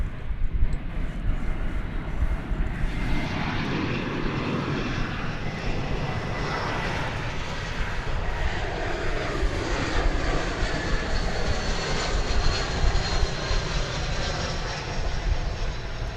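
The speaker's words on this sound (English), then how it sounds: "Flight just touching down from Des Moines, Iowa. Flight 1286, an Airbus A380." Airbus A380 from Des Moines touching down at DFW Airport, a sustained jet roar that rises and sweeps in pitch as it passes, followed by a steady rumbling drone, fairly near and unaccompanied by speech.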